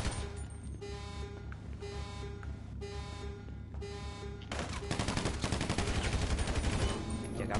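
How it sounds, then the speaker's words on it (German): Gunfire in GTA Online during the Cayo Perico heist: irregular single shots and short bursts, building into louder, denser rapid fire toward the end, with no talk over it. "Ja, da haben ein paar mehr Schüsse ab."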